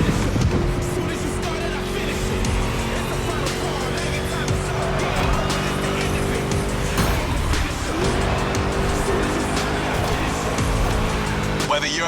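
Muscle car in The Crew Motorfest driving fast, with a continuous loud engine roar, tire noise and skidding, plus brief shifts in tone as it speeds along.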